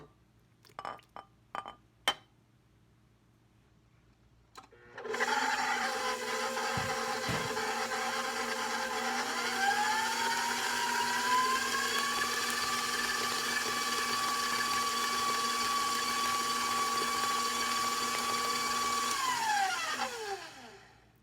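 An electric mixer creams sugar cookie dough with a steady, loud motor whine that runs about fifteen seconds and then winds down, following a few clinks of a utensil against the bowl.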